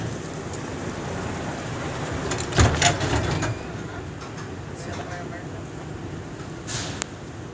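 The blue airport tram at McCarran International Airport rides between terminals, a steady rumbling hum of the moving car with a brief louder clunk midway, while an automated announcement voice speaks over it.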